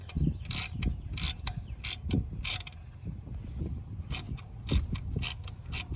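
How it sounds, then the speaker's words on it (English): A ratchet with a 10 mm socket unthreads the small nut holding the wire on an alternator of a Ford Ranger 3.0L V6, giving close, rapid clicking strokes in repeated bursts with brief pauses between them. "it's just gonna be a 10 millimeter to get this threaded out"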